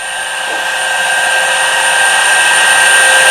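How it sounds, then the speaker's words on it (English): Belt sander mounted upside down sands a wooden armrest support, its loud steady whine rising slightly in level and running continuously at close range, with no speech. "that's my belt sander, and I got it turned upside down"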